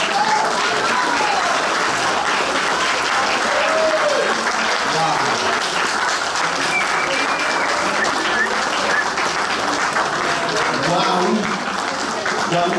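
An audience applauds at a cosplay contest at Auxerre Galactic Days, loud, dense, continuous clapping from a large crowd with cheering and voices underneath throughout.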